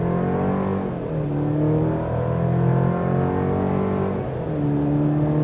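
A 2024 Chevy Colorado ZR2 pickup truck accelerating hard through a tight turn, its engine note rising and falling in a steady, loud drone that is close and continuous, with no talking over it.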